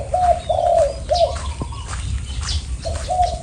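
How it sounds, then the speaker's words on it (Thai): A dove coos close by in short repeated phrases, soft tonal calls with brief pauses between them over faint background noise. "นกที่ เรียกแล้ว คู"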